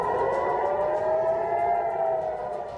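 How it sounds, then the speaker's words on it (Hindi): A steady, loud wailing civil defense air raid siren warning of a rocket attack holds one sustained tone throughout, starting to fade slightly near the end, with no voices. "शहर में हमले से अलर्ट करने के सायरन बजने लगे"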